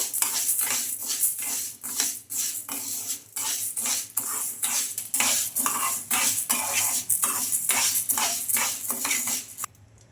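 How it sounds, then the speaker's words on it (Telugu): Green gram dry-roasting in a kadai, a spoon scraping and rattling the grains in a steady rhythm of repeated strokes, close and fairly loud with no talking. "ఈ పెసలను ఒక రెండు నిమిషాల పాటు బాగా వేయించుకోవాలి కమ్మటి వాసన వచ్చే వరకు"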